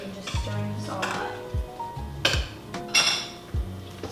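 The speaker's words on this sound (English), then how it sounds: "I'm literally taking the smallest spoon possible because I don't want to get anything else dirty and just stirring this all up" A small spoon clinks and scrapes against a bowl while stirring a vegan mixture in a home kitchen, with several bright metallic taps and rings at irregular intervals, close and fairly clear.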